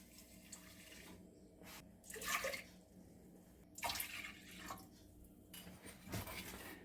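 Milk and water poured into a cooking pan in a home kitchen, heard as a few splashing, trickling bursts of liquid separated by quieter gaps, close and moderately loud, with no talking.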